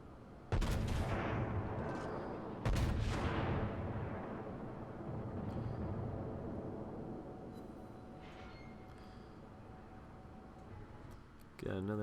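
Main guns of a Colorado battleship fire in the World of Warships naval video game: two heavy booming salvos a couple of seconds apart, each followed by a long, fading rumble.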